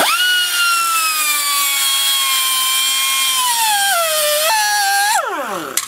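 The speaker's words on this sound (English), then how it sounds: "So get an air grinder and cut the race in half." Air grinder with a cutting wheel slicing into a car's rear wheel bearing race, a loud high whine holding steady, dipping slightly under load, then winding down at the end.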